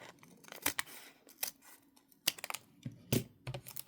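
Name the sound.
scissors cutting open wax seal packaging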